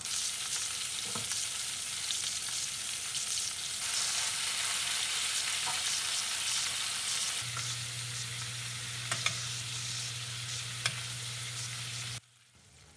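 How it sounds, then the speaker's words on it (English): Pan-fried chuck steak sizzling in butter with rosemary and garlic, a continuous loud frying hiss with occasional spoon scrapes and taps as it is basted, a low hum joining late before the sound cuts off abruptly near the end. "just add butter to the pan along with rosemary. And if you like garlic, if you like garlic bread, just add garlic to the pan. And then feel free to bathe and baste the steak with butter."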